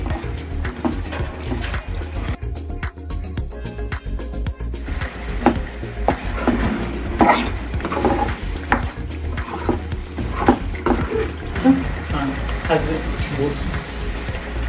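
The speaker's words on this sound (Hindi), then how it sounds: "अब हम इसमें दही ऐड करेंगे। तो अच्छे से मिक्स कर लेंगे।" A spoon stirs yogurt into Shimla chicken karahi in a cooking pot, giving repeated scraping and clinking strokes over a soft sizzle, close and steady, while someone talks over it.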